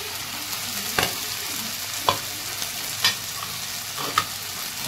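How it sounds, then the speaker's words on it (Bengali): Spices and chilli paste fry in a pan for a meat curry, a constant sizzle broken by about four sharp scraping stirs at roughly one-second intervals, close and alone without talk. "আমি এটাকে ভালো করে কষবো।"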